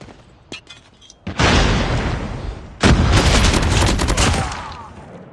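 A frag grenade blasts in a video game, a sudden loud boom followed by a second heavy explosion and dense crackling gunfire that rolls on for several seconds.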